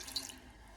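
Tap water runs into a non-stick cooking pot while a bundt cake is being made, a brief steady splashing stream close by and fairly quiet.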